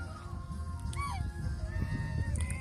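Domestic geese in a flock with ganders, a few nasal honks and calls at moderate distance over a low rumbling background.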